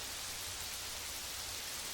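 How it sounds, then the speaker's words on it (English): Steady, dense rain from the video game 12 Hours to Die pours without a break, a constant loud hiss with a low rumble underneath and no voices. "this rain is so loud"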